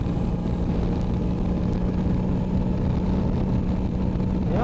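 A 1000cc Arctic Cat 4x4 engine held at high revs near its rev limiter, a steady loud droning roar with a sustained tone that holds throughout and climbs slightly at the very end.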